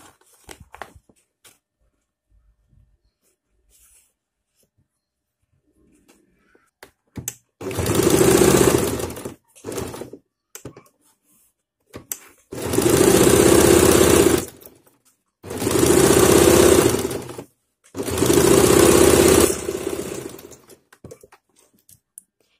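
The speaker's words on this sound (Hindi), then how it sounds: "इस तरह मैंने पूरे नेक में सिलाई लगा ली है।" A sewing machine stitching around the back neck of a blouse: four loud bursts of rapid mechanical whirring, each a few seconds long, separated by short pauses with faint handling clicks.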